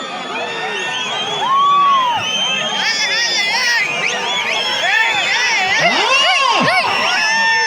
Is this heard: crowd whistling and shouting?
yes